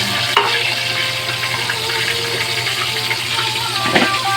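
Chicken fries in a pan, with a continuous close sizzle and crackle and a few sharp clinks and scrapes as the pieces are moved about.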